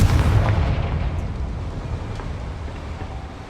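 A Confringo fire spell explodes in Hogwarts Legacy on PS5, a booming blast with a deep rumble that decays steadily over several seconds, loud and without talking.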